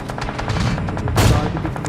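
Rapid automatic gunfire rattles in the BGMI battle royale game, a fast string of close, loud shots with a heavier burst near the middle.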